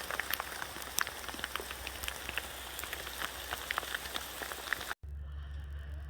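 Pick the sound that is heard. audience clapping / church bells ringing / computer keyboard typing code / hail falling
hail falling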